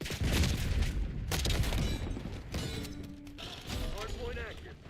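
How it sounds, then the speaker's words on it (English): Frag grenade blast in Black Ops 6 on Nuketown during a Hardpoint match, a loud booming burst among dense gunfire and game chatter, with a brief tonal whine afterward. "Frag going out."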